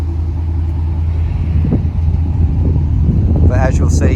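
A Redline ute's engine runs at a steady idle, giving a continuous low rumble close by, with voices heard over it.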